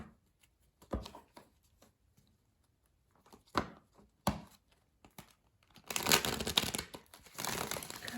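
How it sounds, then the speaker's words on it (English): Cards being shuffled close by: scattered taps and flicks, then a sustained riffling burst near the end. "Okay, I think that's a pretty good shuffle."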